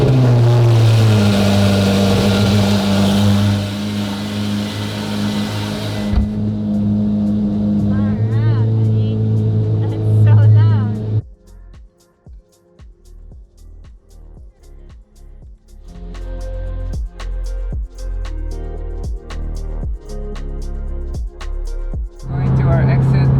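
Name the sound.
Ferrari 488 Pista cold start, engine revving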